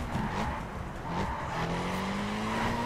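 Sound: car drifting with tire squeal in video game The Crew Wild Run

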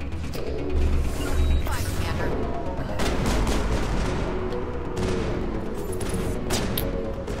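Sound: shotgun fire in Mass Effect video game

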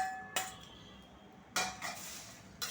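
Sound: fried corn chivda ingredients tipped into a metal kadhai

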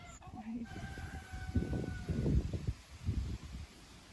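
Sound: silkie chicken clucking

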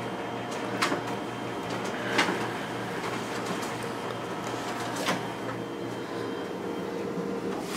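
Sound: Xerox WorkCentre 7545 copier document feeder running test copies

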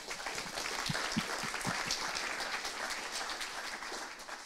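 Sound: audience applause

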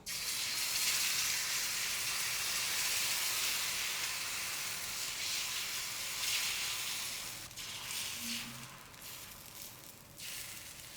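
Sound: green moong dosa batter sizzling on hot griddle

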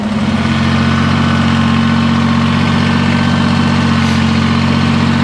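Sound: tractor engine running

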